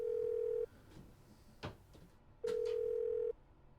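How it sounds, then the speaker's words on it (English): A flip phone in the video game Persona 3 FES gives two steady electronic tones, each under a second long and separated by a pause with faint clicks between them. "Is that a flip phone?"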